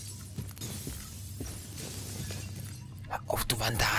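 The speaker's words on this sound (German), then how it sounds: "wir hätten das Glas einfach kaputt machen können." Glass shattering in the video game Batman: Arkham Knight, a sharp bright smash near the end that follows a steady low background hum, with someone talking in German over the game audio.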